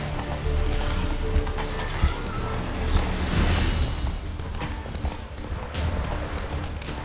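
Hooves of Roach, a horse in The Witcher 3: Wild Hunt, galloping steadily over ground in a game world, a continuous rapid clip-clop close by with ambient wind and rustle underneath.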